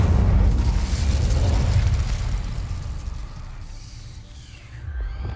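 An Incendio fire spell is cast in Hogwarts Legacy, a loud, deep roaring burst of flame that rumbles steadily and then fades, with a brief swell near the end.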